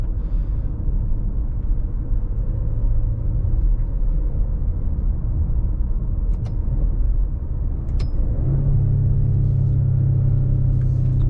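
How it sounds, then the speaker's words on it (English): A Maserati Levante SUV engine in sport mode rumbles steadily with a deep, raspy exhaust note, rising in pitch toward the end as it revs, loud and close. "I noticed some raspiness though in the exhaust."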